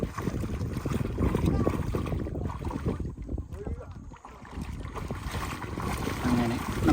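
A river boat carries a motorbike across the water in Wayanad forest country, with a steady low rumble of water and boat noise, gusts of wind buffeting the microphone, and some nearby talk.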